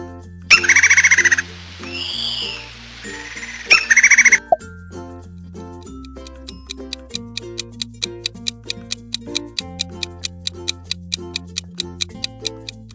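A bird chirps in two short, bright bursts near the start, followed by a steady ticking rhythm over soft background music.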